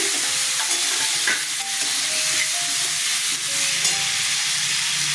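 Potatoes sizzling loudly in a pan with a paste of turmeric, coriander and cumin ground in water, a dense continuous frying hiss with faint utensil clinks throughout.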